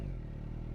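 A 2022+ Suzuki Hayabusa sport bike's engine runs in a short, steady, low rumbling burst with a pulsing throttle note, fairly quiet and heard alone.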